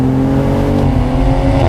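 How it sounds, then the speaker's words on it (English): A 2020 BMW Z4 M40i roadster's inline-6 exhaust at full throttle, a loud, steady, smooth low drone with rich harmonics building continuously without a break. "what is good is the tone of the exhaust when you're flooring it"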